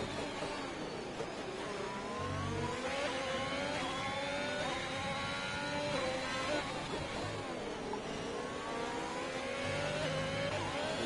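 Race cars in the F1 2021 video game on the Baku street circuit, engines revving and whining continuously up close with rising and falling pitch, overlapping as cars pass one another, under faint commentary.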